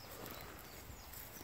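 Horse hooves clip-clopping at an abandoned farm, a brief run of soft, muffled hoof beats under a broad noisy background.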